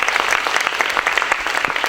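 Students at a motivational seminar clapping loudly for a classmate's future, a close, dense burst of energetic hand claps throughout.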